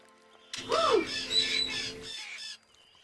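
Birds in the video game Syberia give one loud, harsh squawking call, caw-like and about two seconds long, close by, with a wavering pitch at the start and quiet before and after.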